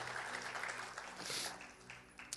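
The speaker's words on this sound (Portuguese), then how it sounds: "E dê um aplauso bem forte ao Senhor." A church congregation claps for the Lord, a faint but sustained wash of many hands with a brief swell near the middle and a sharp louder clap at the end.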